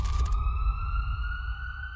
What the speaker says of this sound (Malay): Bunyi sayup siren ambulans